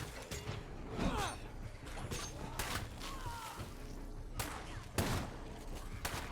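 Gunfire in State of Decay 2 sounds as several sharp bursts, spaced irregularly and moderately loud, over a faint murmuring background with some clanking mechanical noise.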